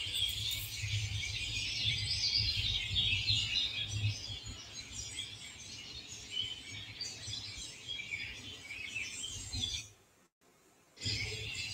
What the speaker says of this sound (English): The birds, what can I say about the birds?